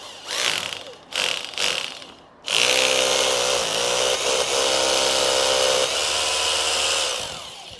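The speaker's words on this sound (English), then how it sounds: "So I'm gonna have to drill and put anchors here." A power drill whines in short bursts, then runs in a long, loud continuous grind, close by, with no speech, drilling holes for sleeve anchors.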